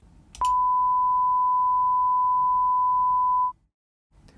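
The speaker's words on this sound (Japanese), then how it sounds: "トーンジェネレーターというプラグインで周波数を 1kHz に設定し、出力を -18dB にします" A steady 1 kHz sine test tone from a tone generator plugin, set to -18 dB, sounding as one clean, unbroken beep for about three seconds before cutting off, with faint background hiss.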